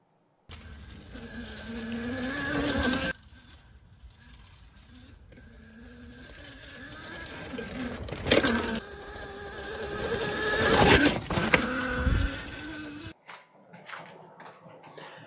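A Voltrover electric dirt bike being ridden, a high whining motor hum that rises and falls in pitch as speed changes, with wind and rattling bursts and a quieter stop at the end.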